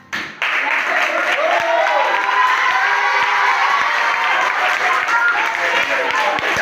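A youth panel audience bursts into loud applause with cheering and shouting, a sudden dense roar of clapping that stays strong and close throughout.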